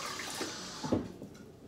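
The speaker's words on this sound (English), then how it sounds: "I'm gonna get a little hot water in this bowl first" Hot water poured into a shaving bowl for lathering, a close splashing and gurgling rush with a brief rise in the middle, no talk.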